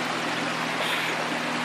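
Creek water flows steadily in a continuous broadband rush, close and fairly loud, with a faint low hum underneath and no talking.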